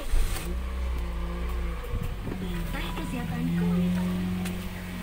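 A used car's engine started and left running, a steady low idle hum with a slight rise in revs, heard close with some background noise.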